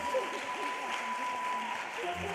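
A distant crowd at a teacher of the year celebration cheers and claps steadily, a diffuse roar of voices and applause with some whistles rising through it.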